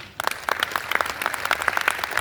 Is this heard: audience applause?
yes